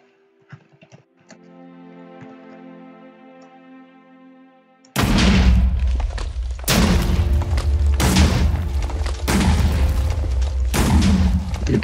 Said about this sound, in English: Alright, next up, the light rifle. Uses light rifle ammo.